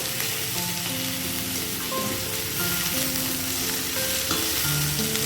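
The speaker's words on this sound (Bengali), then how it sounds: "সব ভালো করে ফ্রাই করে আদা টমেটো সব দিয়ে এবার বাঁধাকপিটা কষিয়ে নেব" Cabbage frying in a pan with ginger and tomato, a steady close sizzle with stirring scrapes throughout, no voices over it.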